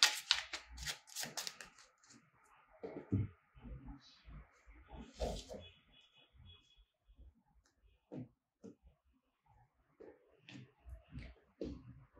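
Lenormand oracle cards are cut and shuffled by hand up close, with bursts of papery riffling and slapping separated by short pauses, fairly quiet, and brief soft speech in between.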